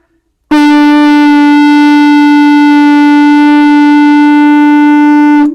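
A conch shell trumpet blown with buzzing lips like a trumpet mouthpiece gives one loud, steady, brassy blast of about five seconds with a sharp start and clean cutoff.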